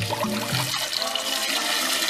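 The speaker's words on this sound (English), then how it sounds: "And I'm just going to cover my egg with cold water" Cold water runs from a tap into a pot holding a boiled egg, a steady close splashing and gurgling flow that continues throughout.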